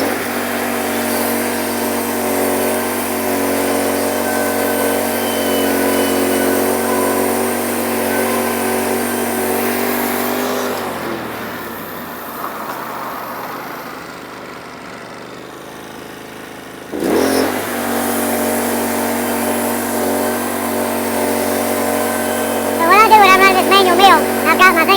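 A Norwood HD36v2 sawmill cuts into a big pine log, a loud steady engine drone with a strong tonal hum that dips briefly midway and then resumes, rough and mechanical, with no clear talk over it.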